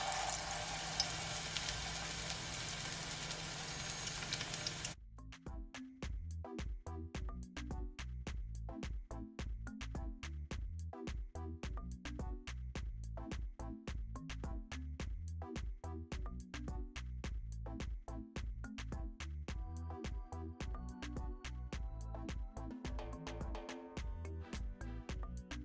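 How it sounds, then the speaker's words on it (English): Plantain slices frying in olive oil in a pot, a steady sizzle and crackle at first, then a long run of dense popping and spitting as the oil bubbles around the fruit. "And I'm just gonna fry it for at least 3 minutes on each side, okay?"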